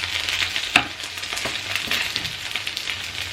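Food frying in a modest amount of oil in a home kitchen, a steady crackling sizzle with scattered sharp pops, one louder pop standing out early, close and alone without talk.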